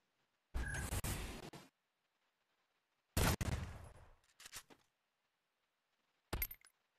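Video game gunfire in three separate bursts: a rapid volley lasting about a second, a second longer burst with trailing shots, then a short final burst, each loud against near silence.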